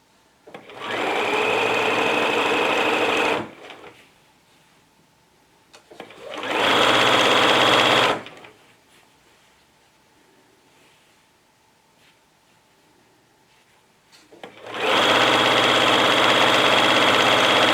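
A sewing machine winds a bobbin in three steady whirring runs of a few seconds each, separated by near-quiet pauses in which a faint hum lingers. The sound is close and fairly loud.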